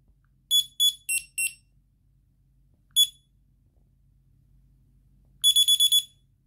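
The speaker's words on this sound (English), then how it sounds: "I can change the beeper settings." A Zebra barcode scanner's beeper sounds four quick beeps, then a single beep, then a rapid burst of five, all crisp and bright against near silence.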